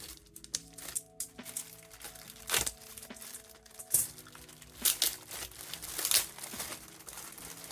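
A plastic bag wrapped around a boxed MSX game is cut open, with close, crisp crinkling and tearing rustles in irregular bursts over about eight seconds, no talk.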